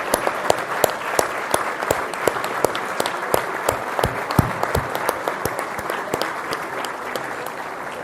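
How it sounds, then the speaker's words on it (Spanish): Audience applause at a Fórum Europa event honoring the ambassador of Haiti, with a dense, sustained wash of many hands clapping steadily throughout. "yo quisiera proponerles que demos un aplauso a la embajadora de Haití"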